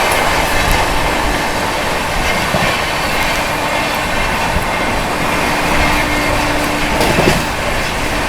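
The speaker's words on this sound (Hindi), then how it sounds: "गजब की रफ्तार में अपनी CR राजधानी ओवरटेक कर रही है यहाँ पर गोवा एक्सप्रेस को।" Heard from First AC aboard the Hazrat Nizamuddin–Mumbai CR Rajdhani Express as it overtakes the Nizamuddin–Vasco da Gama Goa Express: a constant, loud, broadband roar of wheels and rushing air at speed, with no pauses.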